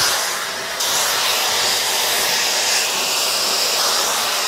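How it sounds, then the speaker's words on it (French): A Roidmi A100 Xiaomi high-speed hair dryer blows on its hottest setting, a loud, steady broadband whoosh with a slight shift in tone near the start, heard close and alone. "Et au troisième appui, on va être sur un séchage avec de l'air vraiment chaud"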